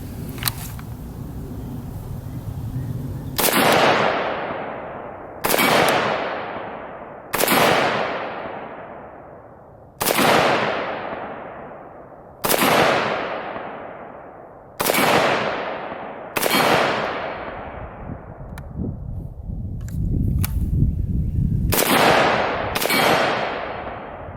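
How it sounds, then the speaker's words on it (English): An IWI Galil ACE rifle fitted with a flash suppressor fires about ten loud, close single shots at irregular intervals of one to two seconds. Each crack trails off into a long, ringing echo. "this one, even with a flash suppressor and not a muzzle brake, is relatively mild shooting"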